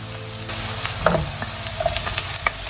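Celery tipped into onions that are caramelizing in a frying pan over lowered heat, giving a steady close sizzle with a few soft clicks and stirring scrapes, no voices.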